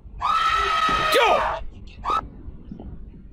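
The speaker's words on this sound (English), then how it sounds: "why'd you scream at me?" An elderly woman lets out a sudden, loud, high-pitched scream lasting over a second, close by, followed by a brief second shorter cry.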